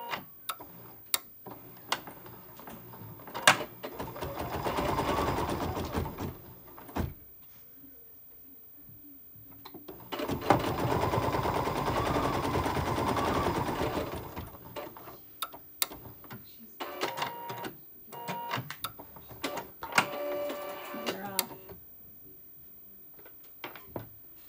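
Embroidery machine stitching a tack-down placement line for a cherry appliqué on a pillow block, a steady mechanical ticking run in three longer bursts separated by quieter clicks and handling sounds.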